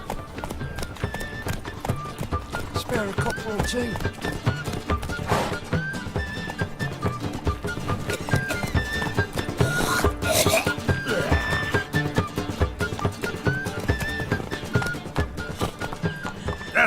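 Roach, a horse in a video game, trots with a steady, close clip-clop of hooves and gives a neigh partway through, while someone speaks briefly over the hoofbeats.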